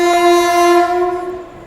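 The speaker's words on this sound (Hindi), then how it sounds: "इससे देखो सामने से कोई ट्रेन भी आ रही है।" A passenger train passes on a parallel track near Prayagraj, its horn sounding loud and steady for over a second before fading, with no talk over it.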